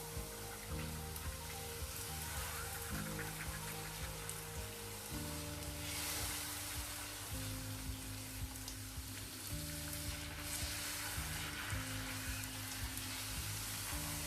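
Puris for pani puri sizzling in a pan of hot oil, a dense, continuous crackle and hiss with soft bubbling, steady and close, while a low background hum runs underneath and nobody speaks.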